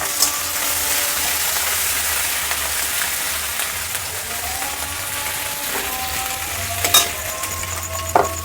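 Crushed ginger, onion and green chilli fry in oil in a pan, a steady close sizzle and crackle with occasional spoon clinks and scrapes against the metal, no voices.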